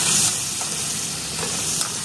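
Water hits a pan of sizzling mutton keema curry and raises a sharp hiss that settles into steady frying and sputtering, close and alone.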